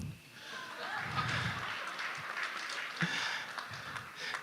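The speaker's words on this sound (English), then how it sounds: "So you can clap hands for me again." Audience clapping at a university medicine week gathering, a steady broadband patter of many hands that swells and fades across the stretch, with low murmuring voices underneath.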